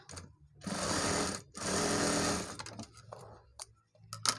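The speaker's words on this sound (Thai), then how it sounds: "ก็จะได้ เย็บย้ำนะคะ" Two sustained bursts of sewing machine stitching, each about a second long, backstitching a shirt side seam, followed by softer fabric handling and small clicks.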